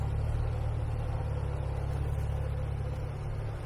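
Infiniti Q50 engine with a Blitz diffuser exhaust and a one-into-one setup ending in chopped-to-fit tips, idling in a steady low rumble at a custom shop open house, with no change in pitch.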